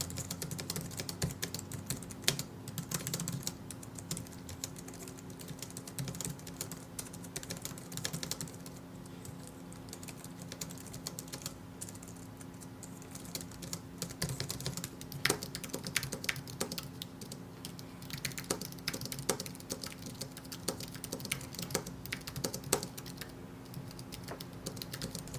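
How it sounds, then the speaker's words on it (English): Someone types on a Logitech MX Keys keyboard in a long continuous run of quiet, close, fast key clicks with irregular bursts and brief pauses, no voices. "I'll go ahead and like include some B-roll or something of me typing, and so you can hear for yourself how loud the switches are."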